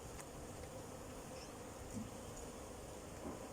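Honey bees hum as a steady, soft, dense buzz from an opened hive, faint and continuous throughout, with a couple of slightly nearer passes and no talking.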